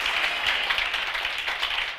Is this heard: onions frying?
no